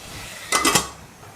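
A lid set down on a pan of cooking tomatoes in a home kitchen, giving three quick close metallic clinks in a row, with no talk.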